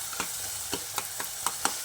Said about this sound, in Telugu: టమాటాలు కూడా ఇలా మగ్గాలి.